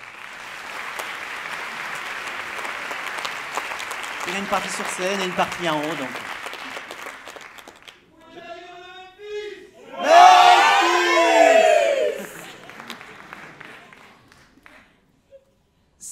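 An audience at a musical theatre awards ceremony applauding and cheering, a long stretch of clapping that thins out, then bursts of shouts and whoops. Someone speaks during the clip.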